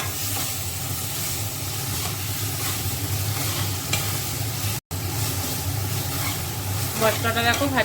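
Masala spice paste frying in a pan, giving a steady sizzling hiss with stirring scrapes throughout, interrupted by a brief dropout near the middle and a few clinks toward the end.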